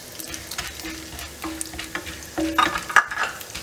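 Chana dal frying in oil in a pan while being stirred for rava idli: a soft sizzle under repeated scraping strokes of a spoon, growing busier toward the end.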